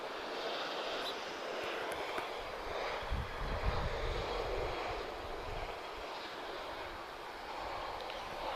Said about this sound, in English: there's a very interesting aircraft about to go over Lisbon at, well, really high over Lisbon. It's an air tanker A330.